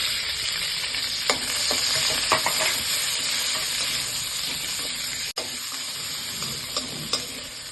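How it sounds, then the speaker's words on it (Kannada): Onion and capsicum frying in hot oil in a pan, a steady close sizzle with occasional stirring clinks and scrapes throughout. "ಈಗ ಈರುಳ್ಳಿ ಮತ್ತು ಕ್ಯಾಪ್ಸಿಕಮ್ ಫ್ರೈ ಮಾಡ್ಕೊಳ್ಳೋಣ"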